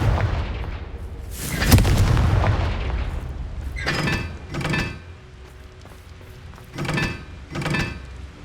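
Confringo fire-blast spells in Hogwarts Legacy go off as a booming burst followed by several shorter cracking blasts in quick pairs, loud and close with rumbling decay between them.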